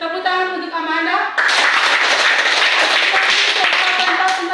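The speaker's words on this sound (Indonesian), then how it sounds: "Tepuk tangan untuk Amanda." A classroom of students applauding for a classmate named Amanda: a voice is heard first, then loud, dense clapping bursts in and keeps going to the end.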